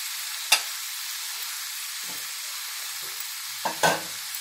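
Spinach fries in a pan while being stirred, a faint steady sizzle broken by a few sharp utensil scrapes and clinks, with no talk.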